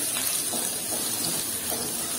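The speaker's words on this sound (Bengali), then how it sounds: "কড়াইতে তেল দিলাম আর এক চামচ, দেড় চামচ দিলাম তেল, দিয়ে এর ভিতরে আমি রসুন কুচিটা দিয়ে দিলাম।" Chopped garlic sizzles in a spoonful and a half of hot oil in a wok for Kolkata-style chicken chowmein, giving a steady, even frying hiss with no pauses and no voices.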